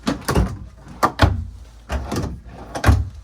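Drawers in a Grand Design Imagine 2660BS travel trailer being slid open and shut, a quick series of close sliding thumps and knocks in uneven rhythm.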